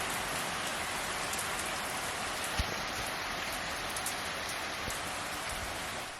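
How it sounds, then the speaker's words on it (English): Heavy rain pours steadily with gutters overflowing, a dense continuous hiss of water close by with a few sharper drips and splashes breaking through, no voices. "It was sunny this morning and now it's raining so hard the gutters are overflowing."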